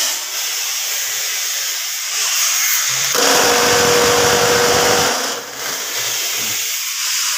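A concrete block press machine runs with a steady hiss and hum, then bursts into a loud rough rattling vibration for about two seconds before easing back to its idle drone.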